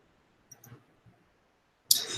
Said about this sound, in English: you're just going to go ahead and click OK